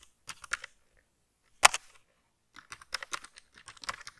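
Keys on a computer keyboard are tapped in short irregular bursts, close and crisp, with a pause and one sharper keystroke between groups of typing.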